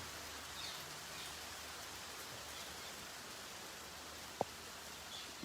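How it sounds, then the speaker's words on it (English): Rain falls steadily in Vrindavan as an even, soft hiss, distant and faint, with one brief tap partway through and no speech. "Enjoy the rain in Vrindavan Dham."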